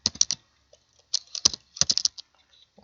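Someone types on a computer keyboard while entering numbers into a C program, with quick irregular bursts of crisp key clicks separated by short pauses, close and clear.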